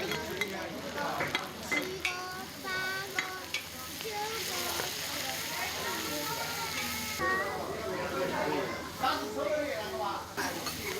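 Fish hot pot base ingredients are stir-fried in a wok, giving a continuous sizzle with scraping stirs and occasional utensil knocks, as several people chat nearby.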